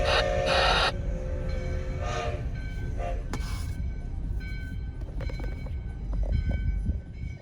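US Sugar 148, a 4-6-2 Pacific steam locomotive once owned by the Florida East Coast Railway, couples to a baggage car and backs up, giving clanks, hissing and rumbling rail noise close by with a short whistle-like tone.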